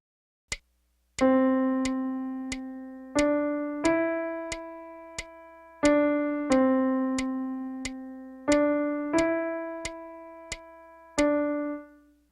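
Piano notes sounding in a measured phrase, each struck and left to ring for about three beats before the next, around nine clear attacks with steady decay and no voices.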